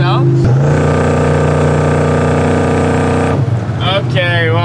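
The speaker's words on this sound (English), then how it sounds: "When you floor it or give it constant gas, it loses oil pressure." A Corvette with an oil-pressure fault revs hard under steady throttle, a loud sustained engine drone holding one pitch for a few seconds before dropping off, followed by a rising rev burst.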